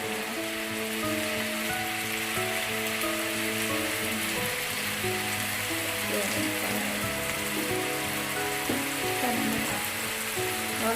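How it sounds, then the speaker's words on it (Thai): Tomatoes stir-fried with minced pork in a pan, a dense, steady, loud sizzle throughout with occasional scraping from stirring and brief background voices. "เราจะผัดให้มะเขือเทศเสร็จนะ"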